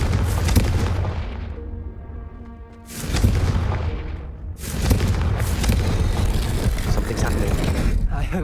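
Blasting spell explosions erupt in Hogwarts Legacy, two loud booming blasts a second or so apart, each followed by a rumbling tail.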